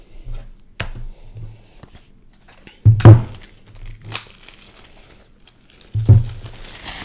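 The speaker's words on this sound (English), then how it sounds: "Getting the plastic off." Plastic wrap crinkles and tears as it comes off a Hermès Apple Watch Series 6 box, with a few loud crackling bursts and softer rustles between them, close up and with no talk.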